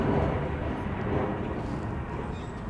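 Airplane passing overhead near a boardwalk at Gatorland in Orlando, Florida, a steady low broadband engine roar that fills the background at moderate loudness.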